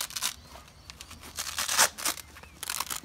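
A shower tent is fastened with close, sharp rips and rasps of velcro and a zip, a few short tearing bursts over about three seconds.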